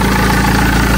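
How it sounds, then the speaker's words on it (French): A BMW X3's engine idles steadily and close by, a continuous low rumble with a faint whirring layered over it that may be the clutch release bearing. "Déjà là, tu peux entendre la butée d'embrayage."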